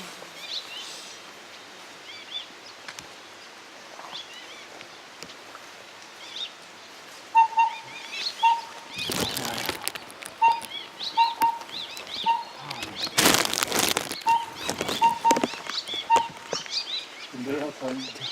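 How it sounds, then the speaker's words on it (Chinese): Taiwan hwamei, an endemic songbird of Taiwan, sings a series of clear repeated phrases at moderate distance, with rustling and a couple of louder bursts of handling noise partway through. "哎，画眉。"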